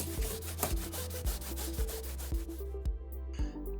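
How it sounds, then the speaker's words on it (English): Fishing rod blank rubbed clean with a cloth and rubbing alcohol, a close rhythmic scrubbing of repeated back-and-forth strokes, about eight passes, quiet with no talk. "you're just gonna prep the blank and remove any old residue"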